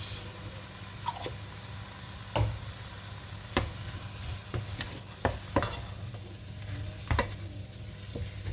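Rice with minced meat, turmeric, pepper and parsley simmering in a pan, a steady low sizzling bubble with occasional sharp clicks of a utensil stirring against the pan, close and moderately quiet.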